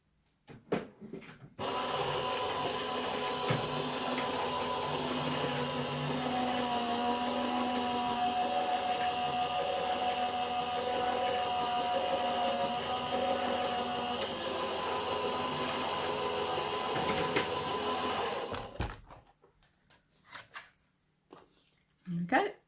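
A Gemini die-cutting machine runs a card sandwiched between cutting mats and a plastic shim with a steady, faint mechanical whirring and grinding. It lasts about seventeen seconds and ends with a few clicks and handling noises.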